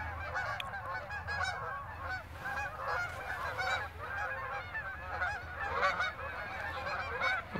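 A flock of geese flies over, honking steadily in overlapping calls at moderate distance against faint outdoor background noise.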